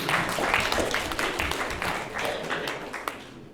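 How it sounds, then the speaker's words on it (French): Steady applause from a crowd at a municipal council meeting, a continuous wash of clapping that carries on for several seconds before easing slightly. "On peut l'applaudir"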